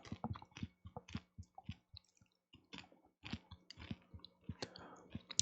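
Close, loud crunching of Cheetos popcorn being chewed, a rapid irregular series of crisp bites and chews with a brief pause midway, no talk.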